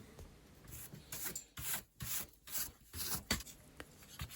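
Sandpaper rubbing the old quarter light window frame of an Austin A30-A35, heard as close, rhythmic rasping strokes in short bursts with brief pauses between them.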